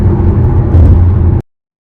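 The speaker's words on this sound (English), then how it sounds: "So this is the traffic, y'all." Road traffic of cars driving along a route between Summerlin and Henderson, heard as a steady, loud low rumble of engines and tires that cuts off abruptly.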